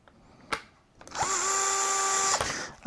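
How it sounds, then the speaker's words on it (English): A small power screwdriver drives a screw back into a Traxxas Mini XRT RC car body. After a sharp click, the motor whirs steadily for about a second and a half, its pitch dipping slightly as the screw seats, then stops. "put the screw back in."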